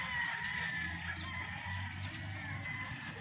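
A flock of chickens clucks continuously while roosters crow in the background, steady and moderately distant, with no voices.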